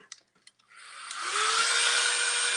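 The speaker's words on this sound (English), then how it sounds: "we're going to hit it with the dryer" After a few light taps and handling clicks, a dryer switches on and blows over a craft project for a Valentine tiered tray, a loud, steady airy whoosh with a rising motor whine that holds to the end.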